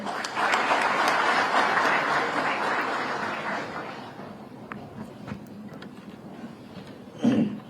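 Applause welcoming a cabinet minister at a public event in India, a loud sustained burst of many hands that fades over several seconds, followed by quieter room sound and a short thump near the end.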